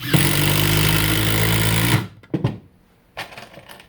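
A Makita XDT15 sub-compact impact driver drives a 2.5 inch cabinet screw, a loud sustained buzzing hammer for about two seconds that stops abruptly, followed by a few faint clicks and handling noises.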